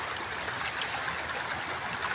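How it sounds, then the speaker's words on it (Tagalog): Strong water current rushing down a channel from a volcano slope, a loud continuous turbulent roar and splashing of fast-flowing water, close by and steady, with no talking. "Ito ay malakas po yung agos dito"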